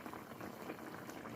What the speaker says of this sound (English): so the dumpling is boiling